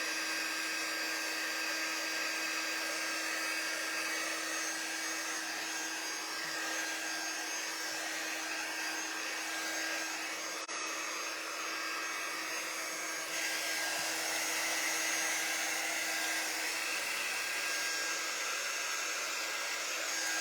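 A hair dryer blows over wet watercolor paint on foil, giving a loud, constant whirring roar with a steady motor hum that holds unchanged for the whole stretch, with no talking.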